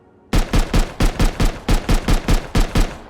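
Eleven sharp, evenly spaced M39 rifle shots from Rust Console Edition ring out one after another, loud and close, after a short quiet start, each with a booming low thump.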